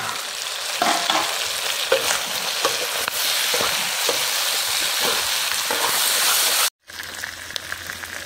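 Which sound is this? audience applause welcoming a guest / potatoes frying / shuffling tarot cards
potatoes frying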